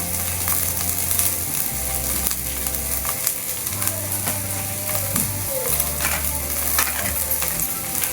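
Onions and curry leaves frying in a pan for a Kerala-style soya chunk curry, a steady loud sizzle with scraping stirring and clinking of a utensil throughout.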